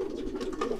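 A pigeon coos softly in a short, low, steady burble, close by but faint, with no voices.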